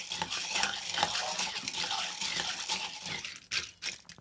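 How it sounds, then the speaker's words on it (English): A spoon stirs sugar and lime over pebble ice in a glass, giving continuous clinking and scraping with rattling ice, close and moderately loud, with no voices. "stir that sugar through"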